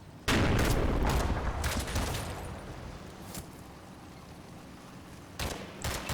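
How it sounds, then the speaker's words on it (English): Gunfire in the World War II game Combat Mission, as Panzer Grenadiers fight: a sudden loud burst of rapid shots, then a fading rumble and a few scattered sharp reports near the end. "One of the Panzer Grenadiers makes a break for it and shoots Corporal Dickinson in the chest."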